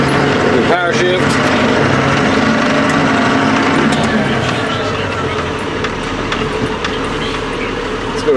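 A 1996 AGCO White 6144 tractor engine drones steadily at full load while shifting through its gears, a dense continuous rumble with a brief mechanical clunk near the start.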